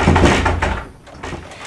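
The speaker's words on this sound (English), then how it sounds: "I'll try the other door." A door being tried and rattled, with a couple of dull thunks and knocks from the handle and frame, close and fairly loud, no talk.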